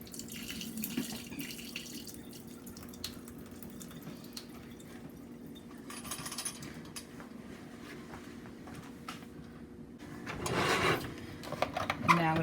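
Tap water runs into a sink as rice is rinsed for a final time, a soft steady flow at close range that swells louder near the end, with faint clinks and kitchen handling noises over it.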